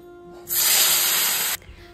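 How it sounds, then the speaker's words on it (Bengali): Fish dropped into hot oil in a pan, a sudden loud hiss that holds for about a second and then cuts off, close and alone. "তো দেখো এখানে মাছগুলো ভেজে নিচ্ছি।"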